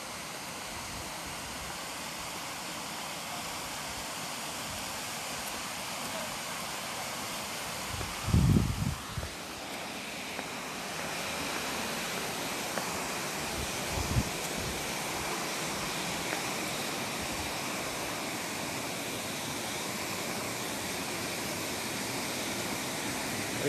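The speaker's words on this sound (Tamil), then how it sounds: "தண்ணி நீர் ரொம்ப அதிகமாக போகுது." Masila waterfall in the Kolli Hills with heavy water flow, a steady broad roaring wash of falling water that stays constant throughout, with a few brief thumps and faint voices.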